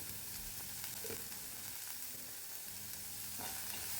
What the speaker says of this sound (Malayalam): ഇനി അതിലേക്ക് നേരത്തെ അരിഞ്ഞു വെച്ച സവാള അത് ചേർത്ത് കൊടുക്കാം